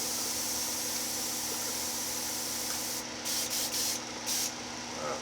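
An airbrush at about 20 to 25 psi sprays paint onto an AMT Dodge Coronet model kit, giving a steady close hiss that briefly cuts in and out near the end.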